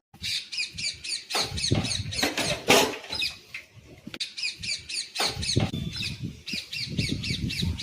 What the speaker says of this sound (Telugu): బర్డ్స్ చూడండి ఎంత క్యూట్ గా సౌండ్స్ చేస్తున్నాయో